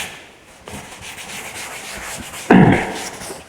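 A board being erased: close rubbing strokes of a duster against the writing surface, a softer swipe early on and a louder, harder scrub near the end, with no talking.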